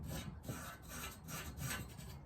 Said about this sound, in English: now I finished scraping this really with the brush